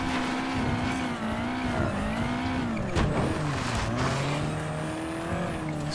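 Car engine in Mafia 3 on PC, driven hard in the game, with a steady droning tone that rises and falls with throttle and a brief squeal of tires near the middle, loud and continuous.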